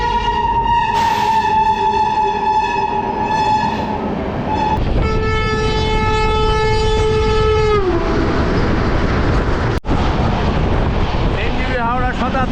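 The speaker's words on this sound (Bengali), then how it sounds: "এই হচ্ছে আমাদের 16592 অমৃত ভারত এক্সপ্রেস।" The Amrit Bharat Express 16592 rumbles past with loud, sustained horn blasts sounding several times, then gives way to clattering wheels and rushing noise; voices can be heard faintly beneath it.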